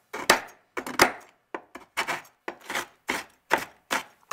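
Softened palm sugar being chopped on a board for Malaysian chicken satay, about ten crisp knife strikes in an uneven steady rhythm, close and clear with no talk.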